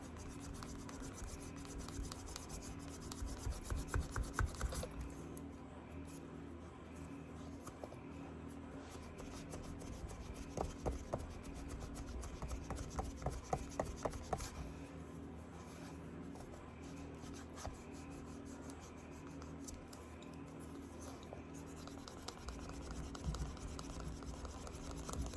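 A tool rubs back and forth across the back of a tooled leather keychain to burnish it smooth, producing faint repeated scratchy strokes in short bursts with no talking.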